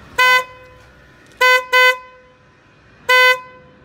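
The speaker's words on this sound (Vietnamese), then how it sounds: "Còi âm cao." Four short blasts from a high-tone disc car horn of the Denso or Bosch type, the second and third close together and the last after a pause, loud and harmonic with no one talking.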